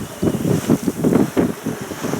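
Strong wind of about 13 to 14 knots sweeps over a sailboat rounding the western tip of Korčula in Croatia, a loud gusting roar buffeting the microphone, with water rushing beneath and no voices.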